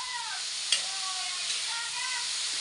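A mung bean dish is stirred in a hot pan, with continuous close sizzling and a brief scrape of the utensil against the pan.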